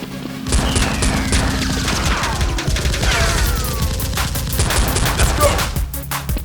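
Toy foam-dart blasters fire in a backyard Nerf battle, a dense rapid clatter of shots and mechanical clicks running throughout at close range, with shouting voices mixed in.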